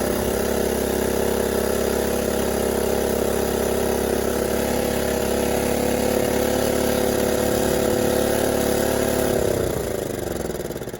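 A John Deere LT155 lawn tractor engine running after a carburetor install, a loud, steady idle drone that holds without a break, then drops in pitch near the end as the throttle comes down.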